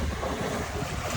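A boat pulls up in a tidal creek during a wet-season boat-camping trip, heard as a steady broadband rush of engine, wind and water noise throughout, loud and continuous with no voices.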